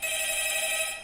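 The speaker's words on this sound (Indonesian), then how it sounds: "Panggilan larut malam." Telephone ringing during a late-night call, a steady high electronic ring sounding continuously and clearly on its own, with no voices.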